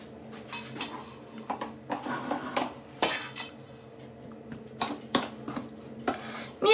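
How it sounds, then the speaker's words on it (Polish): A spoon stirs cake dough for an apple crumble cake in a bowl, with soft scraping and intermittent clinks of metal against the dish, close and fairly quiet, with brief louder knocks. "Mieszamy pierw łyżką."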